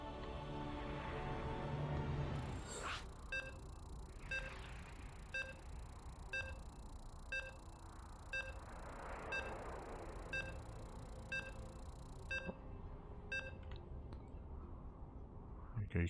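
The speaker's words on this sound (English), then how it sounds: "Okay, you can hear the beeps." Evenly spaced countdown beeps from a StarCraft II match, about ten short tones roughly one per second, steady and clear over a constant background hum of game ambience.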